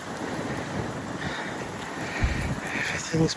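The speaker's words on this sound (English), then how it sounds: "Everything's blowing." Wind blows through an emptied park, a steady low rumble of gusts against the microphone with rustling, a crow cawing faintly and a brief sharp knock near the end.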